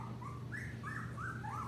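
Young puppies, about two weeks old, whimper and squeak in a rising, wavering series of thin cries over a low steady hum, close and fairly quiet.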